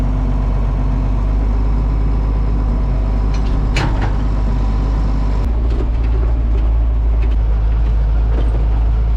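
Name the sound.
vehicle towing a trailer being parked on a hillside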